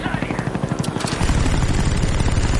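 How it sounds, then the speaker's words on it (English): Helicopter killstreak arriving in Call of Duty: Black Ops, a steady rotor thump that grows louder partway through, mixed with game noise and a voice talking over it. "now I'm calling in the chopper"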